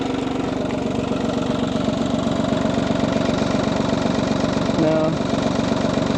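An Audi A2 car engine idles steadily after repair, a continuous, even mid-pitched running note heard close by and alone throughout, with a brief change near the end.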